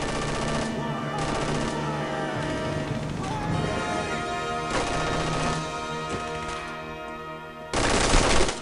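Rapid bursts of machine gun fire crackle through a Brothers In Arms: Road to Hill 30 battle, dense and continuous with layered gunshots and crashes, followed by a louder burst near the end, with a voice talking at points.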